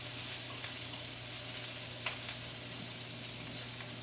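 Carrots sizzle in a hot pan beside a seared, browned pork tenderloin, a steady close frying hiss with a low hum underneath and a few faint clinks, no talking.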